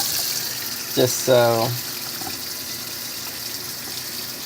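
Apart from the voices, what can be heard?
water pouring into pan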